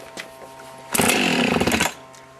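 A hot chainsaw's two-stroke engine catches after a pull of the starter rope with the choke out, sputtering loudly for about a second before dying away.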